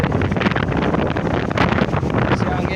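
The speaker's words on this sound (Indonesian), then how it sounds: "Si anginnya ini." Strong wind blows across a seashore during a fishing trip, a loud, continuous broadband roar with steady buffeting against the microphone throughout.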